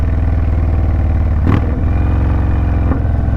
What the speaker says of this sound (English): So we're downshifting.